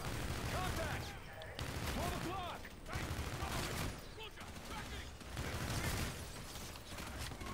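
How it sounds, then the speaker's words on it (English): Dense, continuous gunfire from a Call of Duty: Infinite Warfare match, with bursts of shots and clattering weapon mechanics throughout, heavily mixed with a speaking voice. "Who's shooting me?"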